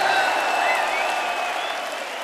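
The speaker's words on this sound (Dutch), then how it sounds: "En natuurlijk een fantastisch applaus voor de band." A concert audience applauds a band in a large venue, with dense sustained clapping and a few cheers from a big crowd, slowly fading over a couple of seconds.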